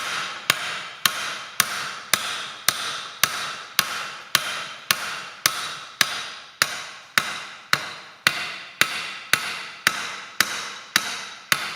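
Steady hammer blows jar the splines on the hydraulic lift of a Ferguson TE20 tractor, about twenty evenly spaced sharp metallic strikes ringing close and loud with no talk.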